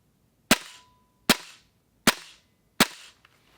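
Four sharp, snappy shots from a gas blowback airsoft rifle, evenly spaced about a second apart, each crisp crack trailing off quickly, with no voices.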